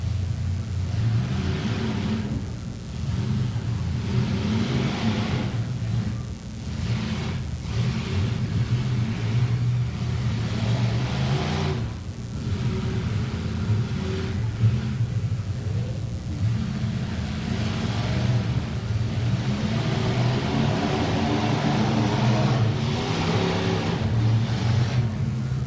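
At a demolition derby, a battered three-wheeled car's engine rumbles and revs in repeated swells, loud and sustained with a rough mid-range growl.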